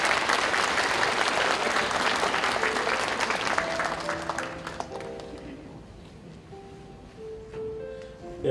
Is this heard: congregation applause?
yes